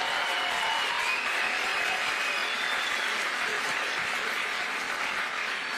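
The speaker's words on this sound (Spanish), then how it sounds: "quiero un aplauso para nuestros queridos participantes David Keenan, Gary Lachman y Marco Sosa." A crowd at a Spanish-language panel talk at a book fair applauds its participants, a dense, sustained patter of clapping that stays loud and even for several seconds.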